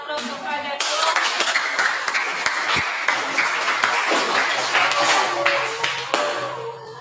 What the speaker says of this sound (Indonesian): Berikan aplaus kepada kelompok